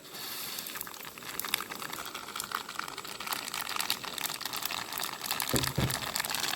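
Dried red chilies and mustard seeds splutter in hot coconut oil, tempering for a ripe mango pulissery. A steady, close crackling hiss runs throughout with a few brief louder pops near the end.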